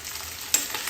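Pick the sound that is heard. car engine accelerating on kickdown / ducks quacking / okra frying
okra frying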